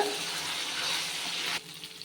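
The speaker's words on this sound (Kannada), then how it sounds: "ನೀಟಾಗಿ ಎರಡು ಕಡೆ ನೀಟಾಗಿ ಫ್ರೈ ಮಾಡ್ಕೊಳ್ಳೋಣ" Garlic chicken pieces frying in hot oil in a pan, a steady close sizzle that drops off abruptly near the end, leaving softer crackles and faint clatter.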